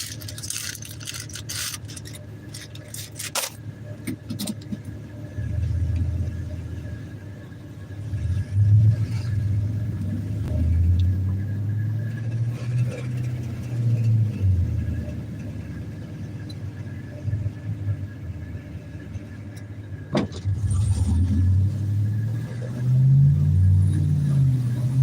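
A truck engine running rough at night, giving a steady low rumble that swells and sags in uneven surges throughout, heavier toward the end, with no clear talk.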